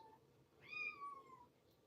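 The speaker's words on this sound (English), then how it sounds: "And little Happy's meowing again." A kitten named Happy gives a single soft, drawn-out indoor meow, rising then gently falling, faint against a quiet room hum.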